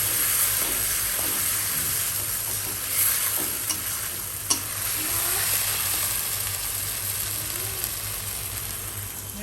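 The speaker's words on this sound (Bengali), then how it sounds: "আর এই যে সয়াবিনের মশলাটা কষা নিচ্ছে, আলু দিয়ে মশলা দিয়ে।" Soybean masala with potatoes sizzles in a pan, a constant frying hiss broken by occasional sharp scrapes and knocks of a spatula stirring, close and moderately loud.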